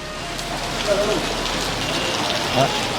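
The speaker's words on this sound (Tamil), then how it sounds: "மழை விடலை." Steady rain falling and pattering on surfaces outdoors, a dense continuous hiss with faint voices and brief sounds underneath.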